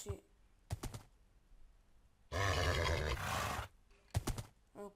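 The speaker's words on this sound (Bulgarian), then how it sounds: "А тук има коне." A horse neighs in the video game Minecraft, one loud drawn-out whinny in the middle, framed by short thumps and clatters before and after.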